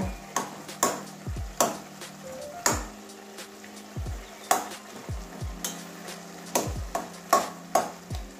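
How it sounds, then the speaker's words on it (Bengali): A spatula mashes tomato in a pan of cabbage curry with fish head, giving repeated sharp metallic scrapes and taps against the pan in an irregular rhythm over a faint background sizzle. "এবারে টমেটোটাকে খুন্তির সাহায্যে এভাবে গুঁড়ো করে নেব।"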